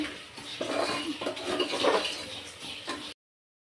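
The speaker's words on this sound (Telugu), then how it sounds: "ఇక్కడ ధనియాలు అయితే వేపుతా ఉన్నాను." Coriander seeds and whole masala spices being dry-roasted in a pan for biryani, with a metal utensil scraping and clinking against the pan in a busy, continuous rattle that stops abruptly; no talk.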